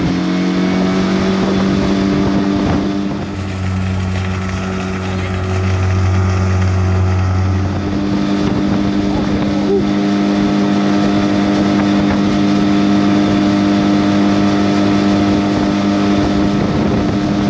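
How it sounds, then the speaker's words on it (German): A 20 hp Suzuki outboard motor idling on a YAM 310 inflatable boat on the Veluwemeer, a steady close droning hum that shifts pitch slightly partway through, with wind buffeting the microphone. "Wir müssen natürlich kurz den Motor warm laufen lassen."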